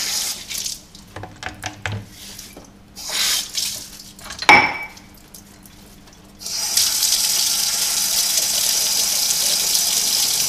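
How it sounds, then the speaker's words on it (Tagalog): Dishes are washed at a kitchen sink late at night: scattered clinks and splashes come first, then a faucet runs in a steady close gush until the end. "maghugas ako ng plato"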